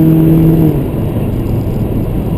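A 2013 Scion tC RS8 engine drops off after the accelerator is released: a loud, close engine drone that eases down a step and settles into a steady lower rumble.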